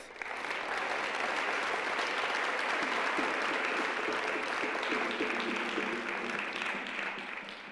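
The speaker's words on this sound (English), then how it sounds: "ask you to respond with applause and acknowledgement of praise" An audience breaks into loud, sustained applause, with steady dense clapping throughout and faint voices rising partway through.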